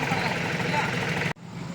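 A parked vehicle's engine idles at a roadside birthday gathering, a steady close rumble with voices around it that cuts out abruptly near the end and then resumes more faintly.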